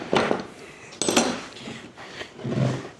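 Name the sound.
heavy duty metal clamps being handled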